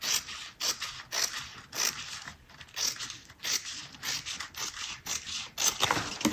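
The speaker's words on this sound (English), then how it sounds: "Take your scissors and just trim that little extra off." Scissors trimming excess fabric while sewing a bag, a run of repeated sharp snipping and scraping cuts in quick irregular rhythm, close and fairly quiet with no talking.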